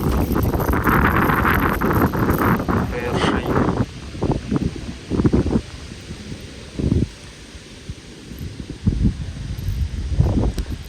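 Steady wind buffeting the microphone on a Desna river oxbow while fishing for perch, with short bursts of nearby talk breaking through the rushing noise.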